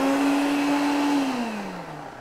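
A blender motor whirs steadily at high speed, its pitch sagging slightly near the end as if bogging down under load, with no voices over it.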